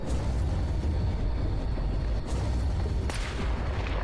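Gunshots in the video game S.T.A.L.K.E.R. Anomaly: a couple of sharp cracks stand out over a dense, rumbling battle background, loud and close, with no talking.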